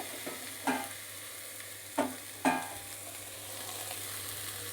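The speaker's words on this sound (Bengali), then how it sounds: "কুচি করা আলুগুলোকে আমি দিয়ে দিচ্ছি" Chopped potatoes frying in a wok, with a steady low sizzle and a few sharp spatula clanks and scrapes against the metal, three distinct knocks spaced about a second apart, fairly quiet and close.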